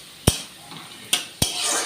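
Food being stirred in a cooking pot, with three sharp utensil knocks against the pot spaced unevenly, a soft scraping rustle between them and a faint murmur of background noise.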